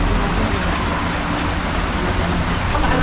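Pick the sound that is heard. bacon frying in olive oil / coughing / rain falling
rain falling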